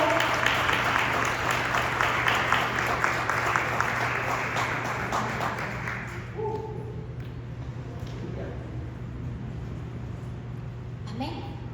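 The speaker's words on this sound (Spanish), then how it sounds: "denle un aplauso al Señor o bendiga al que está al lado" Church congregation applauding during a worship service, a dense wash of clapping loud for the first six seconds, then thinning to scattered claps under a steady hum, with a voice briefly heard near the end.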